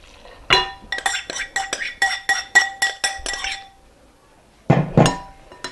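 A spoon or whisk clinks against a glass bowl while muffin batter is mixed, a quick run of bright rhythmic taps followed by a pause and a couple of louder knocks, close and clear with no talking.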